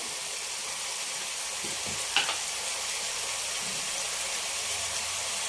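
Tomatoes and onions frying in a pan for a gravy, a steady, even sizzle held close, with one faint clink partway through and no voices.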